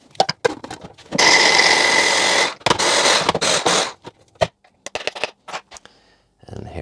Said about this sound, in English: I'm going to grind it down.